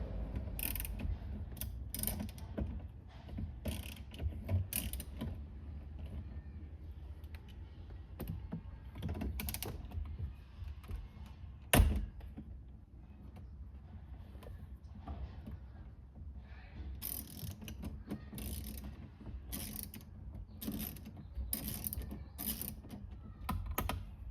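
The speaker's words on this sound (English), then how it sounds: "To remove the head unit, use a 10mm with an extension, and there should be 4 bolts in there." A ratchet with a 10mm socket and extension works on the head unit bolts of a 2018-2023 Toyota Corolla, giving repeated close clicking and mechanical rattles over a steady low background hum, with one sharper knock midway.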